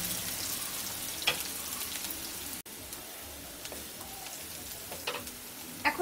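Chopped onion sizzling in hot oil as it is stirred in a pan, a steady crackling fry throughout with occasional sharper scrapes and clinks of the spoon against the pan, no voices.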